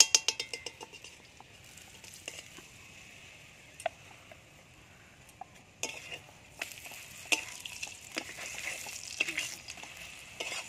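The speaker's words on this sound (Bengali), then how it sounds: "এবার ঘি দিয়ে ভাজবো দেখি।" Layered paratha frying in solid ghee, a quiet sputtering sizzle punctuated by sharp crackles and occasional clatter of a spatula against the pan, close and fairly soft.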